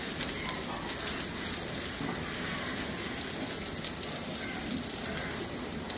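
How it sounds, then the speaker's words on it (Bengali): Chopped garlic and chilies fry in hot oil in a pan, giving a steady, dense sizzle that holds evenly throughout with no talking over it. "রসুনগুলো একটু বাদামি হইলেই এর মধ্যে আমি এই মরিচের কুচিগুলা দিয়ে দিব"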